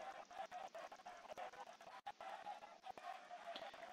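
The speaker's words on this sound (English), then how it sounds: "For more chicken noises" Chickens cluck in a Minecraft mob battle, with quick, repeated clucks in an irregular stream over constant game noise, fairly near and at a steady level.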